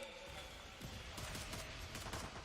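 Rapid gunfire in a professional Valorant esports match, NAVI versus FNC: quick bursts of shots over a dense, noisy game soundscape, no voices.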